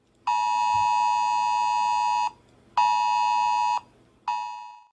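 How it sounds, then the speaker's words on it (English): Three loud, harsh electronic alert tones, the first long, the second shorter, the third cut off, separated by brief silences. "I'm sure you've gotten many of these alerts on your phone."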